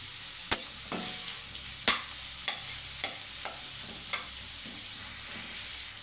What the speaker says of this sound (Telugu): ఉల్లిపాయ ముక్కలు 1 నిమిషం ఇట్లా వేగిన తర్వాత